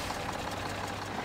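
A Chinese dump truck in the off-road driving game MudRunner gives off a steady, dense engine drone with a rough low rumble, continuous and fairly close throughout the short stretch, with no talking.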